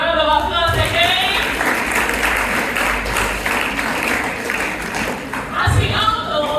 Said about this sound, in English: Let's give ourselves a round of applause again.